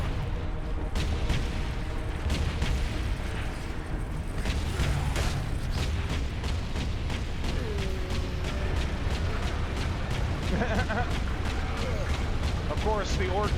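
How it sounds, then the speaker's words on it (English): Turret fire from a video game, with a dense run of sharp, rapid shots and heavy booming grenade blasts. It sounds loud and close and keeps going without a break over a low, rumbling battle din. "Of course, the orc inside the turret is not smart enough to know to stop firing."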